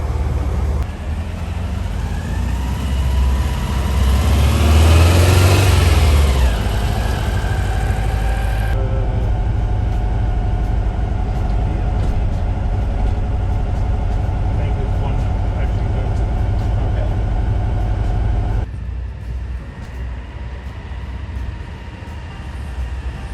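A Volkswagen bus engine hums as a steady, loud, low rumble from the passenger seat on a Southern California drive. People talk throughout over the constant road and engine noise.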